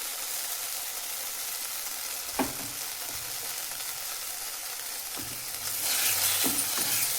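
Tamarind juice poured into a hot pan while making Dharwad-style North Karnataka girmit, a steady close sizzle of frying with a few soft stirring knocks and a brief louder hiss near the end, no voices.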